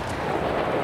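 An autocannon fires in a video game, a single heavy, booming blast with a rumbling tail filling the short moment, loud and close.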